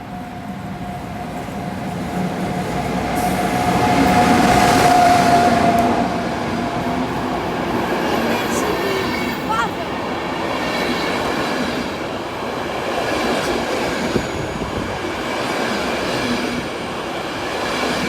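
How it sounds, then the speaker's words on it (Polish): Intercity Wawel express train passing slowly through Mysłowice station in Poland, a long steady rolling rumble of railcars with a brief whistle-like tone early on, loudest around the middle as it goes by, with no talking. "No jedzie husar z Wawelem, powolny przelot przez Mysłowice."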